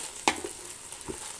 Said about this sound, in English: Going to make sure to saute it nicely with the ghee